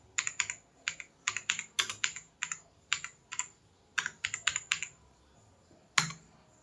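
Computer keyboard typing a search query into a library search website, quick bursts of crisp key clicks in an uneven rhythm with brief pauses, close and clear, ending with one firmer key press.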